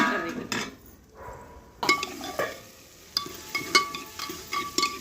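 Onions roasting in a pan for Punjabi pakora kadhi, with scattered stirring scrapes and clinks of a spoon against the pan over a low frying sizzle, close and moderately loud, no talking.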